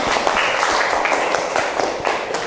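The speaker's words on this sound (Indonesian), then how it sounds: "tepuk tangan" A classroom of students applauds after a group poetry reading, a dense, steady patter of many hands clapping together for a few seconds at close range.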